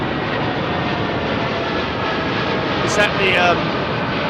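Korean Air Boeing 747 departing London Heathrow, a broad steady jet roar held at constant loudness throughout, with a brief voice cutting in near the end.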